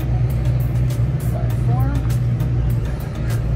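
A pipe-beveling cutter's motor runs with a steady, loud low drone. Light clicking sits on top, and voices are faintly present.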